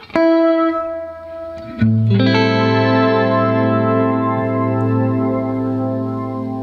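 Sustained electric guitar chords through an Electro-Harmonix Canyon delay pedal swell into a thick, organ-like wash of delayed repeats, a second chord entering around two seconds and ringing out loudly without talk.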